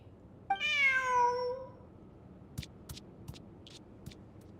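A cat gives one clear, drawn-out meow close by, then a few soft scattered clicks and taps follow in an otherwise quiet room.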